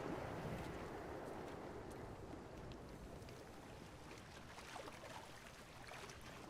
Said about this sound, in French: Il y a un bruit de vent.